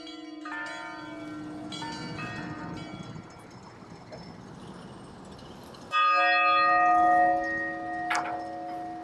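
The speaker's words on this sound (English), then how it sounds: "we also have this bell here at the Historical Society. Nice sounding." A bright brass bell rings with long, shimmering overtones, struck twice, the second strike louder and ringing on as it slowly fades.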